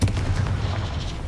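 A Bombarda blasting spell explodes in the Hogwarts Legacy video game, a dense, rumbling boom that sustains loudly through the short moment with no talking.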